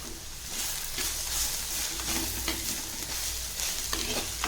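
Onions sautéing in a pan with salt make a dense, continuous close sizzle, with soft stirring scrapes rising and falling throughout and no voices.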